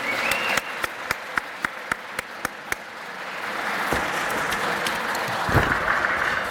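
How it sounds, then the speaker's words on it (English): An audience at an athletics hall of fame dinner applauds the catering and dining staff. A string of sharp, separate claps comes first, then it swells into sustained, even applause. "Let's give them a round of applause"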